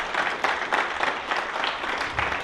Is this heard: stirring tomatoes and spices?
no